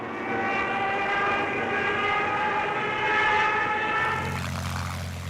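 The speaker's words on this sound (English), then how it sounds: "German dive bombers, heavily escorted by fighters, strike at an eastbound convoy." German dive bombers with heavy fighter escort attack an eastbound convoy off Dover in the Battle of Britain: a loud, steady roar of aircraft engines with a layered harmonic drone that shifts and thins near the end.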